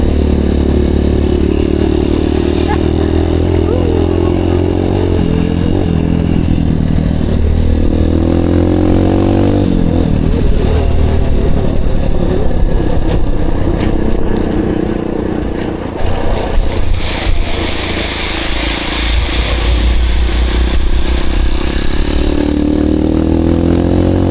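A Honda motorcycle rides a trail in Palawan and overtakes, its engine roaring loud and close throughout, with rising and falling revs and some rattling clatter from the rough ground.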